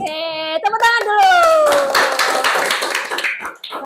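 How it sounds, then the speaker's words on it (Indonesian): Children in a classroom clap their hands in a quick burst of many overlapping claps after a teacher's voice, with voices mixed in near the end. "tepuk tangan dulu"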